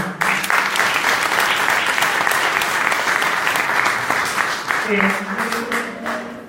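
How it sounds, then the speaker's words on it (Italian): A crowd applauds continuously, dense clapping filling the space with a steady roar, a few hums of voice faintly underneath. "a questo punto un applauso per tutti, a Gino Adamo,"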